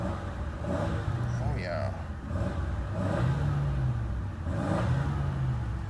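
A 1988 Oldsmobile Cutlass Ciera engine revs up in a few rising and falling bursts after a cold start, close and fairly loud, with someone talking briefly over it.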